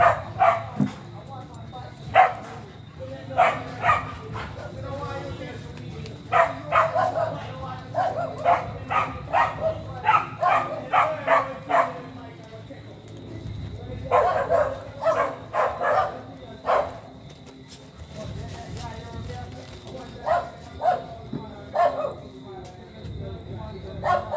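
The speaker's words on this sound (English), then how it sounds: "Dog fight." Dogs barking and snarling in a scuffle in Portland, Jamaica, bursts of yips and barks coming in clusters throughout, fairly close, with someone talking over parts of it.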